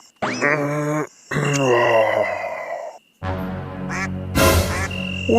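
A cartoon character imitates a duck with several drawn-out nasal quacking calls, loud and close, separated by short pauses.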